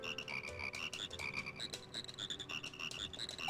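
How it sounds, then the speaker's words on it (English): Frogs croaking as the frog song in the video game Majora's Mask: a lively chorus of rapid, chirping croaks over a musical backing, steady and moderately loud throughout. "Allow me to play my frog song."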